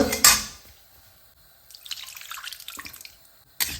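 Less than half a glass of water is poured into a pan holding about 132 grams of jaggery with a little ghee, a short close splashing pour followed by trickling and a final splash.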